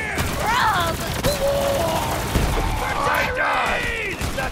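Rapid gunfire and grenade blasts from the Borderlands 3 shooter game, dense overlapping bursts and booms with shouting game voices mixed in, loud and close throughout.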